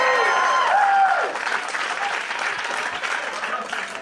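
Applause and some cheering rise from a comedy audience, with a voice whooping briefly over the start before the clapping settles into a steady, slightly thinning patter.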